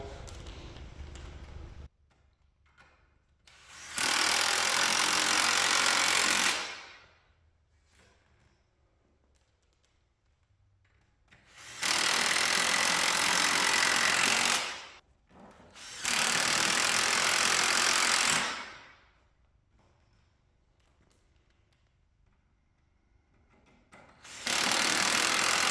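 A power drill bores holes into a wooden sawhorse in three loud, sustained bursts of roughly three seconds each, separated by quiet pauses, with a fourth burst starting at the end.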